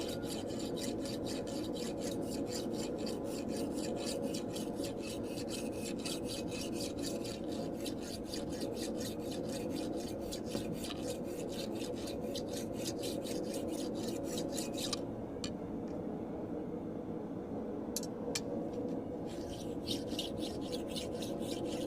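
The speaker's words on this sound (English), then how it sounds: "Do a little bit of hot rasping." A rasp file scrapes hot material in quick repeated strokes, a steady rough rasping rhythm that pauses briefly partway through before resuming, close and fairly quiet.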